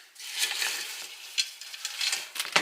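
Thick peanut butter gets stirred in a small bowl, pushed up one side, producing close, sticky scraping and squelching strokes in an irregular rhythm, with no talking.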